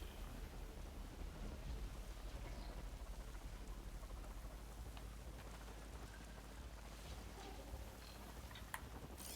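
Steady wind and rain hiss in a dense wash with scattered drop ticks and a low rumble in Horizon Forbidden West, a continuous moderate ambience with no voices over it.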